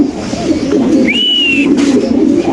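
A Spanish pigeon at a pigeon farm gives a short cooing call with a single drawn-out note, heard close over a steady background din of other pigeons and farm noise, with no talk.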